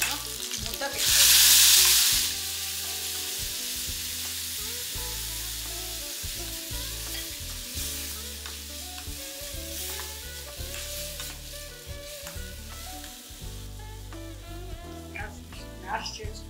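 Curry leaves and a coriander, onion and chili paste fry in a pan for spicy potato-onion curry, a steady close sizzle with a loud hiss burst near the start and scraping stirs throughout.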